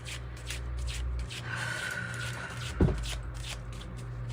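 Tarot cards being shuffled and drawn: soft papery riffling and rubbing over a steady low hum, with a brief louder scuff near the end, close and quiet.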